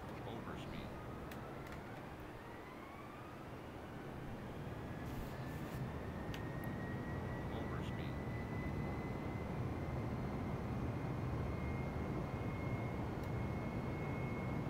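An Airbus A320 in Microsoft Flight Simulator drones steadily as it climbs, a continuous broadband engine roar with a faint rising whine, holding at a constant level throughout.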